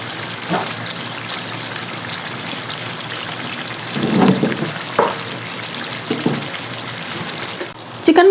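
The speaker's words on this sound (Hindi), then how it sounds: "अब हम इसे दही के साथ अच्छे तरीके से भून लेंगे चिकन को" Chicken fries with yogurt in a pan for restaurant-style chicken makhni, a steady crackling sizzle like light rain, with a few louder stirring scrapes and a clatter near the end.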